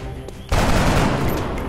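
A gunshot in XCOM: Long War bursts in loud and sudden after a quiet lead-in, followed by a dense sustained crackle of rapid fire.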